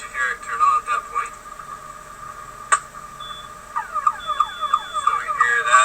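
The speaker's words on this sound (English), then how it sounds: "You can hear that's the siren sound you would hear, of course," An aircraft emergency locator transmitter sounds over a radio as a sweeping, warbling electronic siren tone with repeated falling sweeps, close and steady, following some earlier beeping.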